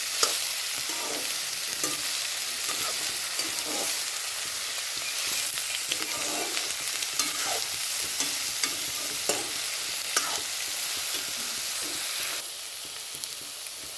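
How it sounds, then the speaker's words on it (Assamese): Eggplant and dried fish fry in a pan under a constant loud sizzle, with repeated scraping stir strokes spaced through it; the sizzle drops noticeably near the end. "ধুনীয়াকৈ লাৰি অলপমান ভাজি ল'ম"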